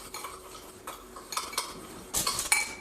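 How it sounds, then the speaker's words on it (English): A spoon clinks and scrapes against a bowl while purple color paste is stirred into a sugar scrub, in soft irregular strokes that grow louder and sharper toward the end, with no talking. "We just have to mix it a little bit more."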